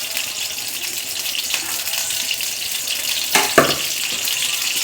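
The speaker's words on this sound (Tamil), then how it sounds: "சட்டி சூடான பின்னாடி பிறகு எண்ணெய் ஊற்றுறேன்" Oil poured into a hot pan while cooking radish thuvaiyal, a continuous hissing, rushing wash of sound with a brief louder splash near the end, close and steady, no voices.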